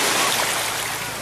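Waves washing over a rock-covered beach at Canuba Beach in Jagna, Bohol, a steady broad rushing wash, close and continuous, fading slightly at the end.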